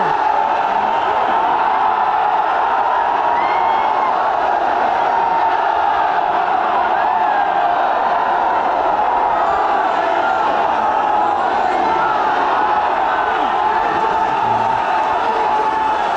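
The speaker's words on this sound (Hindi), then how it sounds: "ये जितनी भी भीड़ है ये सब नारे लगा रहे हैं अपनी मांगों को लेकर" A large crowd of students chanting slogans together at a protest rally demanding a re-exam, a dense, loud roar of massed voices that rises and falls steadily throughout.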